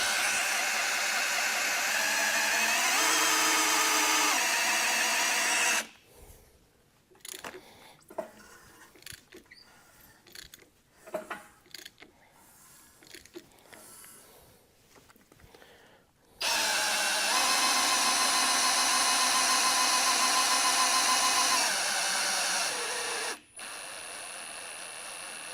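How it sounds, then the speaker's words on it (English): A power drill whirs steadily for several seconds, spinning the oil pump of a Ford FE 360 engine, falls silent amid scattered clicks and knocks, then spins up again for a long, even stretch. "There, I'm just barely spinning the drill, and that thing has good oil pressure."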